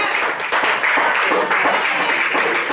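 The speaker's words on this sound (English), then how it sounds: "let's give them a clap, a round of applause here" A live audience breaks into a round of applause, brisk, dense clapping from many people that holds steady and fairly loud throughout.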